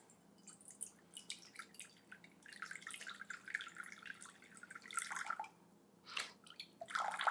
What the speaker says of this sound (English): And we're just gonna pour some in until we get to 430 grams.